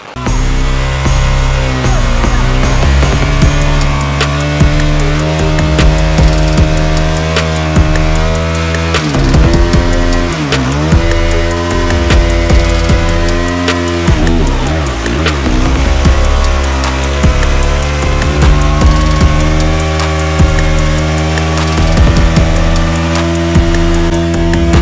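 A Yamaha WR450F dirt bike ridden hard during a durability test, its engine loud and close throughout, climbing and falling in pitch as the rider opens and rolls off the throttle, with no talking.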